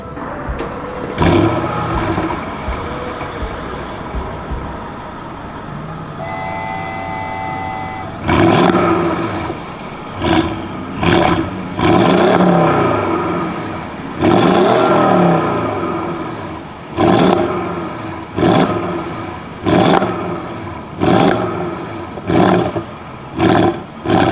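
A Mercedes GL63 AMG's engine and exhaust roar through repeated hard revs, each burst rising sharply and falling away between short pauses, loud and close, with a brief beeping early on.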